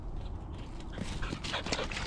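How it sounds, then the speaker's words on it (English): A dog, excited and running around during an outdoor bike ride, gives a few short, faint whimpers and yips against steady rushing background noise. "Where are you going, you mad dog?"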